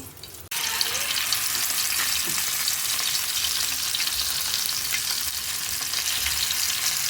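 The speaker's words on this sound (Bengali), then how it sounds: "এই সবগুলো দিয়ে আমি একটু ভেজে নেব" Beef mince hits hot oil in a pan and bursts into a loud, continuous, close sizzle after a brief quieter start, crackling steadily throughout with no talking.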